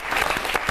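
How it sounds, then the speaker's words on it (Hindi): Audience at a Hindi comic poetry gathering (hasya kavi sammelan) breaks into a short, dense burst of clapping to welcome poet Feroz Sagar to the stage, with no talk over it. "जोरदार तालियों के साथ फिरोज सागर साहब को हम बुलाएंगे।"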